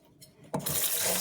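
Ginger is washed as running tap water suddenly gushes on, a close, steady splashing rush after a quiet moment.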